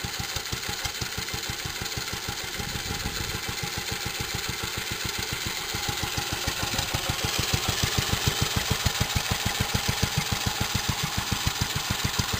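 A J.A.P. Model 5 stationary engine running warmed up with the choke open, a close, loud, steady rhythmic chuffing beat that gains slightly in strength and pace over the clip.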